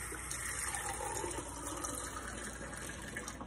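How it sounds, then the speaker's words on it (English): Water runs steadily into a glass, a continuous gushing pour heard up close without any talking. "fill my glass with water"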